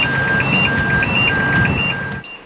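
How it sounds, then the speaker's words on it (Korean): A flammable gas detector alarm goes off after urethane foam is sprayed into a sealed space: a steady series of high electronic beeps repeats over a constant noisy hiss, then cuts out near the end. "우레탄 폼을 밀폐된 공간 안에 발포하자마자 가연성 가스가 발생한다는 경보가"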